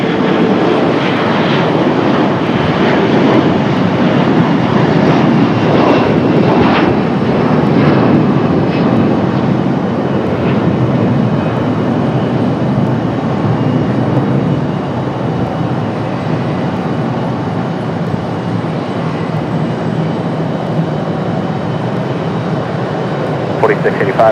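A CRJ regional jet departs Raleigh Durham airport, its engines roaring loud and steady for the whole stretch and easing only slightly toward the end, with voices talking over the noise.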